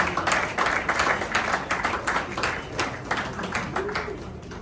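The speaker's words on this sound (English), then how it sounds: "Shall we do a big round of applause as we celebrate?" Applause at an award ceremony honouring Dr. Ernest Ofori Sarpong: many hands clapping in dense, sharp bursts, fairly loud and continuous, with no talk over it.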